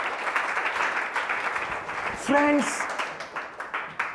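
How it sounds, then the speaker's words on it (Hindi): Church congregation clapping loudly in thanks, a sustained patter of many hands under a preacher's voice, with a brief tonal electronic sound partway through. "ये जोरदार ताली बजा के उसको धन्यवाद।"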